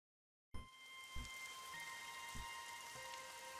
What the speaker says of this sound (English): The rain poured down endlessly.